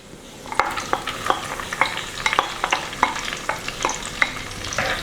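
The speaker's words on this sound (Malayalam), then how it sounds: "അപ്പോൾ ഇനി നമുക്ക് നമ്മുടെ ഉള്ളി ഇട്ട് കൊടുക്കാം" Onions fry in hot coconut oil in a clay pot for Kerala-style beef curry, a steady sizzle broken by repeated rhythmic scrapes of stirring, close and clear with no talk.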